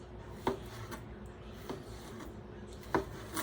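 A knife slicing sausage into thin rounds on a cutting board, with three or four separate soft cuts, each a short crisp tap as the blade meets the board, spaced about a second apart.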